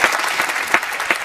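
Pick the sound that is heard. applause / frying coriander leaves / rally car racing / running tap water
applause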